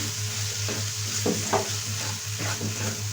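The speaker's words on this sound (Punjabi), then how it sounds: "ਇਹਦੇ ਨਾਲ ਹੀ ਆਪਾਂ ਇਹ ਥੋੜੇ ਜਿਹੇ ਹਰੇ ਮਟਰ ਪਾਵਾਂਗੇ ਇਹਨਾਂ ਨੂੰ ਆਪਾਂ ਥੋੜਾ ਜਿਹਾ ਪਕਾ ਲਵਾਂਗੇ" Green peas in tomato masala for baingan bharta sizzle steadily in oil in a pan, with a few scraping spoon strokes as the mixture is stirred, close and continuous with no talk.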